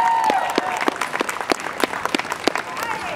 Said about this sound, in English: Cassey Rosser, give her another big round of applause.